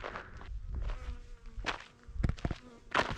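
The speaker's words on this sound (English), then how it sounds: "Running away from the bee." A bee buzzes faintly around someone outdoors on a ridge road on Catalina Island, the insect drone rising and fading as it moves close and away, mixed with wind and rustling.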